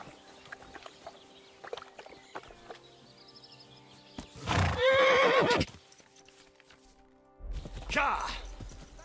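Horse in the Kingdom Come Deliverance 2 video game gives a loud whinny mid-clip after faint clip-clopping hooves, then another burst of hoof and movement noise, with a voice speaking.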